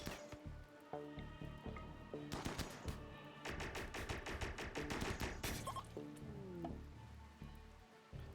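RimWorld colonists open fire in a firefight, with rapid rattling bursts of gunshots clustered mid-clip and scattered single shots before and after, crisp and game-like with no talking over them.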